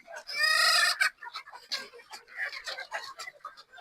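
Chickens in a yard cluck and a rooster crows loudly up close, followed by choppy cackling and clucks, with someone talking over the flock.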